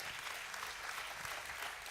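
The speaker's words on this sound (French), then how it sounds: "Merci, vous pouvez l'applaudir" Steady applause from an audience at a French award finale for a speaker, a continuous, fairly soft patter of many hands clapping at an even level throughout.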